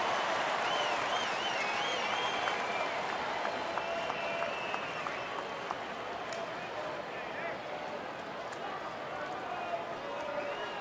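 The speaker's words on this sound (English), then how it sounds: "Crowd's trying to make some noise now." Crowd noise fills a baseball stadium during a Toronto at Detroit game, with steady distant cheering and clapping under a play-by-play voice talking throughout.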